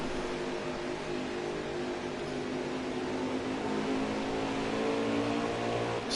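Race trucks roar around the Eldora dirt oval in a racing game, engines holding a dense, continuous high whine as the pack runs together in a tight fight for the lead.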